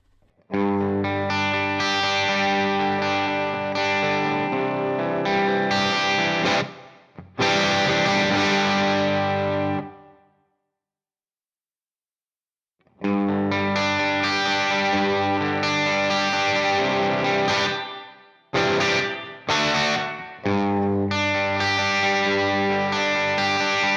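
A distorted electric guitar through a Headrush MX5 amp modeler with medium room reverb plays dense, sustained chords with a washy, effected tone, stopping briefly twice before resuming loudly.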